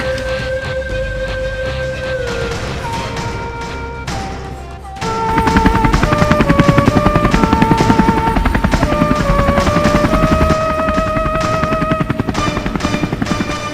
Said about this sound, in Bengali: হেলিকপ্টার পাঠাইছে তাই না তারা আমিও পাঠাইতেছি